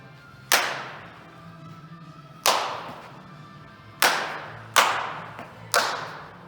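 Five sharp single hand claps spaced about a second or two apart, each a crisp close slap with a short decay, given as cues for a reverse lunge exercise during a fitness training session, with quiet room tone between them.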